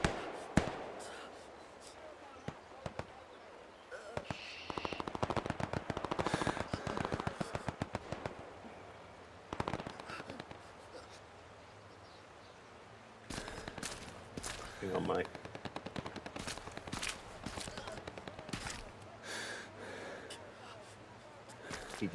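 Gunfire around a garrison in the game Hell Let Loose: rapid volleys of sharp shots, some close and loud, with pauses between bursts, while voices talk over the fighting.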